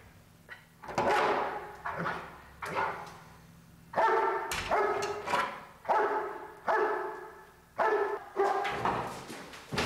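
Police K-9 dog barking repeatedly during a building search, loud, close, insistent barks in a steady rhythm of roughly one per second, with no talk.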